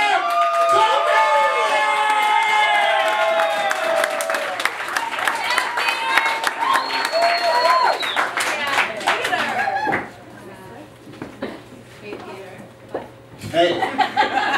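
An audience at a comedy show breaks into loud applause and cheering for a comedian, with dense clapping and whoops that fade after about ten seconds into lighter clapping, then swell again briefly at the end.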